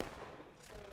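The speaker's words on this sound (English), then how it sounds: "CSA Artillery is shooting some shots over there" Artillery and rifle fire in a Civil War battle game, with Confederate cannons and infantry engaged; a dense, continuous roar of distant gunfire rolls through the full second without a voice.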